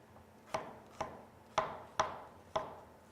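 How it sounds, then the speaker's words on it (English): Five sharp knife chops through bell pepper on a cutting board, evenly spaced about half a second apart, close and fairly quiet with nothing else heard. "we're just going to chop them into little chunks here"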